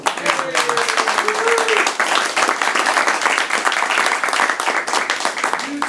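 Applause rings out from an audience at a video game industry networking event, a dense, steady wash of clapping that fills the room for several seconds, with a few brief voices mixed in.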